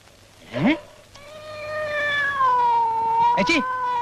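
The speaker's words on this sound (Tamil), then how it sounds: "இது பூனை." A cat meows loudly in a long, drawn-out wail, close by, framed by two shorter sounds before and after it.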